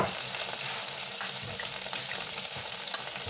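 Garlic and butter sizzle steadily in a frying pan alongside chicken, a constant bright crackling hiss with occasional stirring scrapes, fairly quiet and close.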